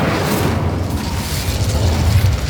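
Fiery Incendio spell blast in the video game Hogwarts Legacy during a battle against attacking goblins, a sustained loud, rumbling boom with a dense crackling wash lasting throughout.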